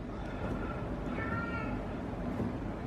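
A cat meows to be let into a lab workshop, a few drawn-out cries at moderate distance over a low background hum, with faint talk nearby.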